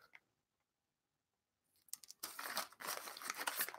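Scissors cutting a small hole in crinkly packaging while making Avengers cookies, starting with near silence and then a close, steady run of crisp snipping and crumpling with no voices.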